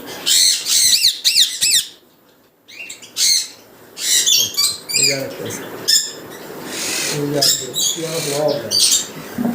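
Parrots squawk and chirp loudly in close, overlapping bursts at a bird farm, with shrill calls coming in dense clusters and only one brief lull.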